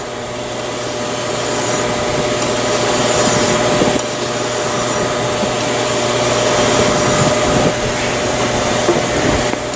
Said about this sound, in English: So you just keep on working that file.